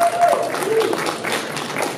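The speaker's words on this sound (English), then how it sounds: "Give her a round of applause." Applause from a crowded audience at a bipartisan congressional reception hosted by a political action committee, a steady, dense wash of many hands clapping at moderate volume throughout, with faint voices mixed underneath.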